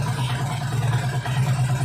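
A Harley-Davidson motorcycle engine idles while warming up, giving a close, steady low throb that stays even throughout.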